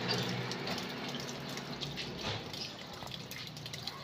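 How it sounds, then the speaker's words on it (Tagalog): Water runs and trickles steadily against a wall being soaked to check for a leak, a soft continuous splashing flow, fairly faint and close. "Nabababaran natin siya ng tubig dito, no, para malaman natin kung may leak itong lugar na to."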